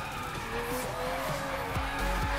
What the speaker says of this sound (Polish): To jest bus stworzony chyba do driftu w The Crew.